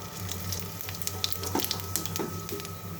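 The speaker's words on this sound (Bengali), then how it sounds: "পেঁয়াজ দিয়ে ডালের মধ্যে আমি একটু জিরা ফোড়ন দিই" Cumin seeds tempering in hot oil for dal with onion, a close crackling sizzle with sharp pops and spits scattered over a steady low frying hiss, with no voices.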